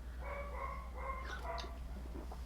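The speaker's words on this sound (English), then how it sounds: "my dog is being super annoying right now" An indoor pet dog gives a few faint whining, yipping barks in a short irregular run over a low steady hum, somewhat distant, with no speech.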